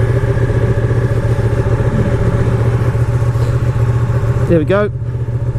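A 2018 Ducati Panigale 959 Corse engine idles nearby with a steady, throbbing mechanical rumble, and someone speaks briefly near the end as the note dips slightly.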